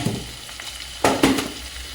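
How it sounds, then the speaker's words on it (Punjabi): Masala with chopped tomatoes fries in a pan for sarson da saag, giving a steady loud sizzle broken by two scraping stirs near the middle. "ਮਸਾਲਾ ਭੁੱਜ ਰਿਹਾ"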